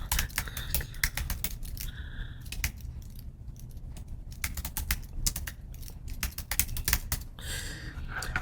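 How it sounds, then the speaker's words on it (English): Rapid clicky keystrokes on a computer keyboard come in quick bursts with short pauses, close and crisp, entering text in Adobe Illustrator. "go ahead and just click once and start typing"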